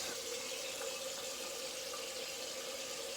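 Tap water runs steadily into a sink while someone rinses during a wet shave with grapefruit shaving cream, a constant close rush with no pauses or talk.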